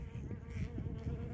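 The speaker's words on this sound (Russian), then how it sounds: "все остальные, вы видите, пчелки облетаются интенсивно" Honeybees flying intensively around their hive in early spring, a steady close buzzing drone with overlapping wingbeats and small swells in loudness, heard alone without talk.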